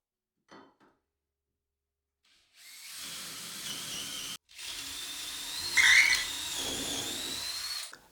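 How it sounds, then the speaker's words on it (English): A power drill bores bracket holes in scaffold-board bench legs, running in two steady bursts of about two and five seconds with a brief pause between, close and fairly loud after faint handling noises. "So I'm going to get that marked out and drilled out where these brackets need to go."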